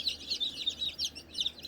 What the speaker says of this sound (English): you got a lot of birds in here